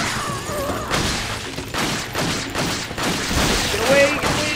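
Enemy gunfire in the Resident Evil 4 video game, a dense burst of shots and thuds under excited talk and shouting, loud and close throughout the short stretch.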